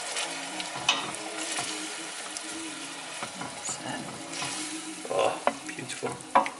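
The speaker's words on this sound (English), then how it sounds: "Give it a little stir." Tomato being gently stirred into spinach and rice in a pan, a soft scraping and faint sizzle running steadily under the cooking, with a few louder clinks near the end.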